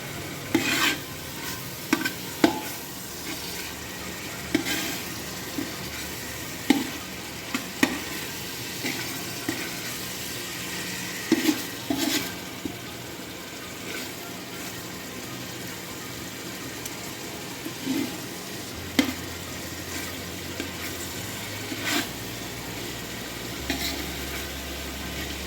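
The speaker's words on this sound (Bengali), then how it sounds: "ইলিশ মাছটাকে আমরা হালকা হাতে এপিট ওপিট করে ভালো করে মশলা মাখিয়ে নেব" Hilsa fish is gently turned over and coated with spice paste in a pan. Soft sizzling runs throughout, with intermittent scraping knocks of a utensil against the pan, close and steady.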